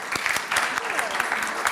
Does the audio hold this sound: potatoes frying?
no